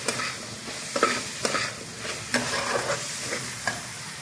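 Meat masala being stirred into food frying in a pan, with a steady sizzle under repeated scraping strokes of the spoon, close and moderately loud.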